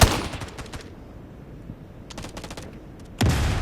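Suppressive gunfire in the mobile game Delta Force, heard as rapid automatic bursts at the start, more bursts midway and a loud burst at the end, with quieter gaps between them.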